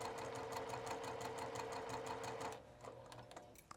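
A sewing machine stitches a fabric cuff in a steady, fast mechanical run for about two and a half seconds, then stops, leaving a few faint clicks and rustles close by.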